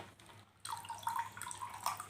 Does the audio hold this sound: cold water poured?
yes